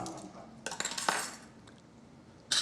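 A teaspoon stirs yakitori tare sauce in a pot, making a few quick, light metallic clinks and scrapes close up, followed by a short pause and a final clink.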